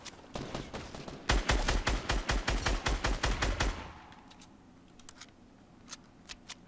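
Rapid bursts of gunfire from other players in the Fortnite video game, a loud fast volley for several seconds, then sparser distant shots trailing off.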